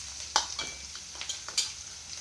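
Ridge gourd pieces fry in a hot pan with a quiet, steady sizzle, broken by a few short scraping stirs close by and no voices.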